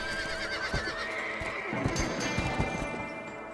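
A horse whinnies in the Western video game Red Dead Redemption, a shrill neigh rising over hoof clip-clops and outdoor game ambience, fairly close and without talk.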